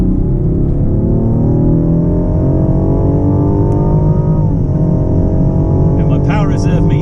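A Rolls-Royce Wraith Black Badge pulls hard on a race track, its engine a steady, loud, close drone that rises slowly in pitch under continuous speed, with a brief shift and higher whine near the end.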